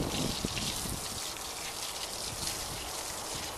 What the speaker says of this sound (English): Blast this with some fresh water